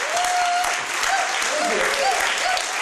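A crowd at an awards show claps steadily and loudly throughout, with a few faint whoops and voices mixed into the dense applause.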